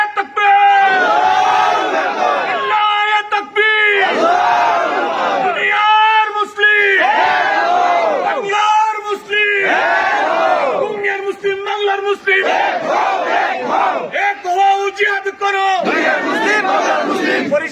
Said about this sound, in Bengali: আমরা সবে মিলিয়া স্লোগান দেই